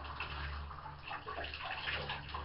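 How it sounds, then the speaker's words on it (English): Water runs steadily into a bath while a Newtonian reflector telescope mirror is rinsed, a continuous soft splashing and gurgling wash at low level with no pauses. "we're going to rinse the mirror out again"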